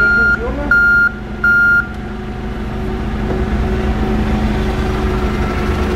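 Three evenly spaced electronic reversing beeps from a Toyota 8FGU25 LP gas forklift sound over its rumbling idling engine, which continues alone afterward.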